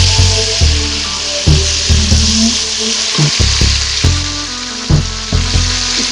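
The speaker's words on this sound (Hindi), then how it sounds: "अब इसमें मैं ऐड करूँगी टमाटर" Finely chopped tomatoes fry with browned onions in a pan for a dal, making a loud continuous sizzling hiss broken by repeated thuds and clanks of stirring.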